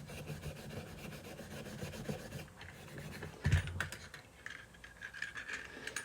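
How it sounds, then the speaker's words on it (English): Steel wool scrubbing the back of an old rusty steel scale that has been cleaned with vinegar: a steady, close rasping scrub with a short, harder burst of strokes midway. "Let's hit the steel wool on the back side, see what happens."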